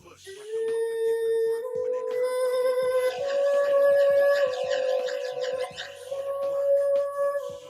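A recorded saxophone take played back in a studio, with sustained, gliding melodic tones over a faint rhythmic backing.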